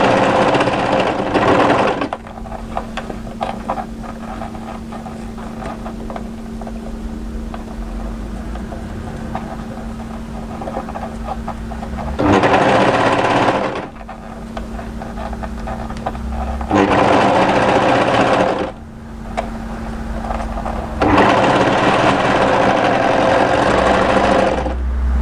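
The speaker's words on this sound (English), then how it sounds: "keep overlocking" Overlocker serging a cuff onto the sleeve of a raglan hoodie, loud close mechanical whirring that runs in long bursts with brief pauses between stitching runs.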